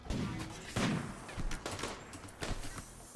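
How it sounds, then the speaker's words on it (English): Heavy SMG gunshots in a colony-building video game, sharp bursts of several loud reports with thuds between them, irregular and close. "gunshot heavy SMG"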